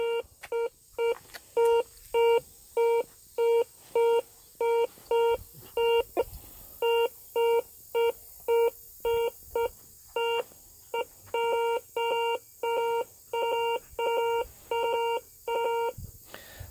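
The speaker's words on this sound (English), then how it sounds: "See, not a fast recovering metal detector." GTI 1500 metal detector passing over nails, a long run of regular, evenly spaced electronic beeps at a clear steady pitch, each tone short and sharp, with brief gaps between, moderately loud and alone.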